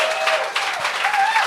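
Audience applause at a comedy show, a steady wash of clapping from a crowd that carries evenly to the end, with a few whoops and cheers rising over it.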